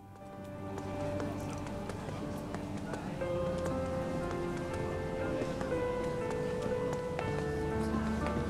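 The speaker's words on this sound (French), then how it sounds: "Il pleut." Steady rain falls in the video game Final Fantasy VII Rebirth, a soft continuous patter layered with game music and faint ambient sounds, running evenly for several seconds.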